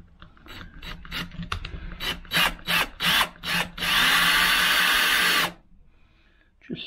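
A power drill drives countersunk number 6 half-inch screws into a wood batten during a narrowboat fitout, with several short clicking bursts, then one long loud whirring run that stops sharply.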